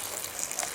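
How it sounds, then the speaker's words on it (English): Boiling cooking water left from crawdads pours out of a pot onto the ground outdoors in a short, soft gush. It is a faint splash lasting under a second. "Go ahead and dump this water out."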